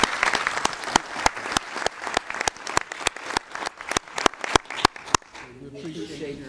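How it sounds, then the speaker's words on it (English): Sharp, widely spaced claps ring out loud and close at an investment committee ceremony, a scattered run of individual hand strikes that stops abruptly before a voice begins speaking. "How about applause?"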